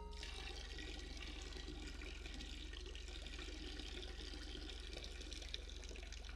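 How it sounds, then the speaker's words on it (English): A Grand Theft Auto 5 character urinates into a toilet, a steady trickling stream of liquid that runs continuously at moderate level, with no talk over it. "Guess we're peeing."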